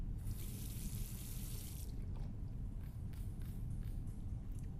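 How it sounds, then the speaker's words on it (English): Water runs from a tap for about two seconds to rinse a photographic plate in the game The Last Door, then stops, leaving faint drips and quiet room noise. "All that remains is to rinse the plate."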